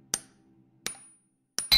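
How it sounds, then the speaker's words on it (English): Hammer strikes on a chisel ring out in a radio drama, three sharp metallic taps spaced about a second apart, each with a brief bright ring, and a fourth quick hit at the end; close and clean with no talk. "Now, a chisel and a hammer."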